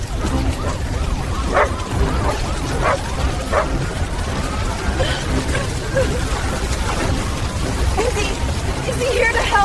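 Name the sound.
dog barking and whimpering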